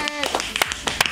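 A few sharp, close hand claps at a quiz-game recording, scattered unevenly after a brief voice at the start.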